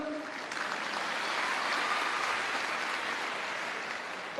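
A large audience claps continuously and evenly for several seconds, a dense wash of applause that swells slightly in the middle.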